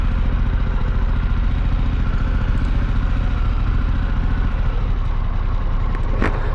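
A Harley-Davidson Pan America motorcycle engine drones loudly and steadily while riding, a dense rumble with slight rises in throttle throughout.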